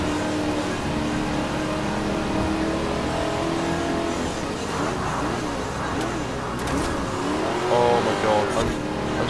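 Porsche 918 hypercar engine revving in the racing game Forza Horizon 4, a loud, continuous roar with rising and falling pitch as the car accelerates, with a brief surge near the end.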